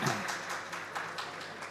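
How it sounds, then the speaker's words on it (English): An audience at a digital banking and payments summit applauds a guest in a soft, diffuse wash of clapping with a few slightly louder bursts, steady over a brief stretch. "So big round of applause."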